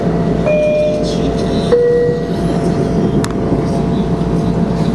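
A Long Island Rail Road train running toward Penn Station, heard as a steady, loud interior rumble with faint high tones and a brief click. It continues without talking.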